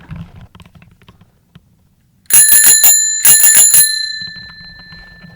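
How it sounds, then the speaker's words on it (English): An electric bike's bicycle bell rings in two sharp, bright bursts of rapid trills close by, each fading with a lingering metallic tone, following faint low rumbling. "I'll ring the bell and they'll turn around, they'll see where I'm coming from"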